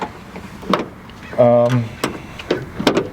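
Cessna 172 aircraft door handled with a mechanical creak or rattle around the middle, plus a few short clunks and knocks; people talk nearby.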